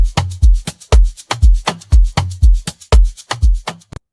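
An Afro house drum loop from the Afro House Universe 4 sample pack thumps along at a steady groove, with punchy low kicks and percussive hits repeating in a tight rhythmic pattern, loud and alone without any voices.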